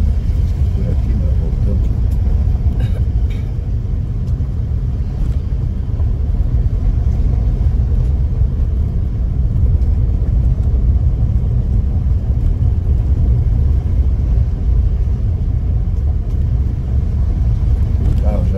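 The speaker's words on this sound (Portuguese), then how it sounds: "O carro já não está querendo andar mais?" A car engine labours at about 5,000 metres altitude on a canyon road along Peru's Cañete River, a loud, steady, low rumble running unbroken for over eighteen seconds, with people talking over it.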